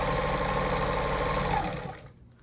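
A sewing machine stitches quilting fabric squares together in a fast, steady, dense whir that runs for about two seconds, then cuts off abruptly into silence.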